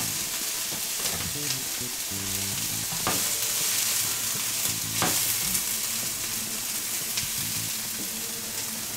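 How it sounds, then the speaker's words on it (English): Food sizzling and frying in a pan while being stirred, a steady close crackle with scraping stir strokes every second or two. "Ooh, looks like food is being cooked"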